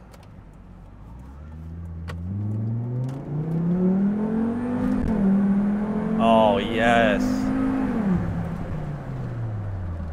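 A Volvo V70R wagon with a new aftermarket exhaust drones through acceleration on an open road, engine tone rising steadily then holding before easing off, heard from inside the cabin with a brief spoken exclamation.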